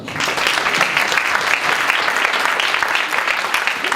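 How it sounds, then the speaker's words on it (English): A student audience gives loud, dense applause for executive election candidates after a campus Q&A, continuous clapping throughout with no pause. "Give them a round of applause."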